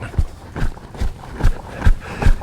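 Horse hooves strike the ground in a steady trotting rhythm, six clear, close thuds at an even pace.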